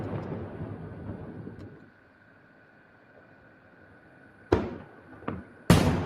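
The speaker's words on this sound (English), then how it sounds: "He doesn't like firework noises" Fireworks go off in a few sharp, distant bangs near the end, spaced apart, after a stretch of low rumble and quiet hiss.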